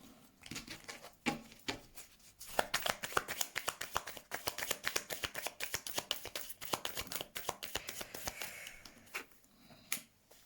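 A deck of tarot cards is shuffled by hand at close range, a quick fluttering riffle of many soft paper slaps in rapid bursts, with no talking over it.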